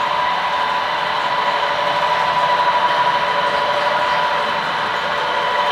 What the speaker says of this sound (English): Here's the Rock Island passenger train, led by 2